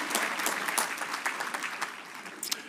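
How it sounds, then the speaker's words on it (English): An audience at a Nigerian Igbo gathering in the USA bursts into dense, sustained applause, a steady wash of many hands clapping together with a few sharper claps standing out near the end. "Clap for yourself."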